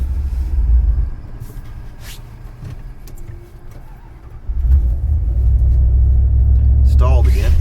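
An old New Yorker car engine warms up while missing on some cylinders, idling roughly, sagging and stalling, then catching again and settling into a louder, steadier rumble close by.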